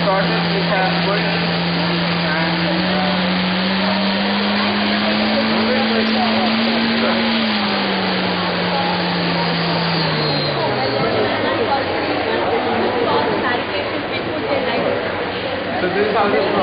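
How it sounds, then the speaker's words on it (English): Electric motor spinning a propeller at half throttle, a steady loud whirring drone with a sustained tone that rises slightly then drops, heard up close and continuous throughout, with someone talking over it. "as we increase the throttle here, you can see the propeller moves at very fast speed"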